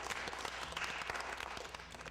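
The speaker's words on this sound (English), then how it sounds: "Give Curtis a round of applause." Audience applause for Curtis at a school sophomore information night, a brief burst of many hands clapping in a dense, continuous patter.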